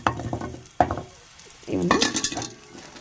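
Masala-coated onions and vegetables frying in oil on a tawa, with a few sharp clinks of a spatula, a brief sizzle, then a louder stretch of stirring and crackling.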